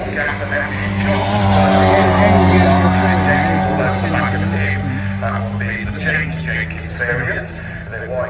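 Mighty Mini race car engines roar past at high speed at Castle Combe, a loud sustained whine that shifts in pitch as they go by, with a commentator talking over it.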